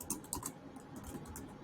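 Short burst of computer keyboard typing entering a product description, a quick run of crisp close keystrokes with brief gaps.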